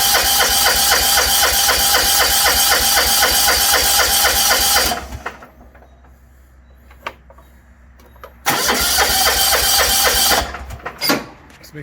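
A 1980s John Deere 180 lawn tractor engine cranks and runs loudly for several seconds, drops to near quiet with faint clicks, then roars again at a steady busy chug before fading near the end.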